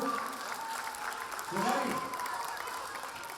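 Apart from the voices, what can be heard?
children's audience applause at concert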